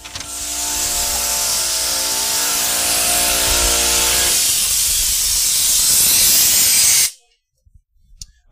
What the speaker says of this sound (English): make sure to close the drain valve before you start the air compressor